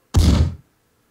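A single heavy artillery shell fires in a video game, a deep, booming thump that hits sharply and fades within half a second, followed by silence.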